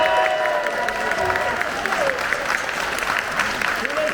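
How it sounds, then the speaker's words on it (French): Loud applause at a conference on adaptive climbing, crowd clapping and some cheering, with a voice talking over it and tonal sounds drifting through. "Allez, on applaudit très très fort."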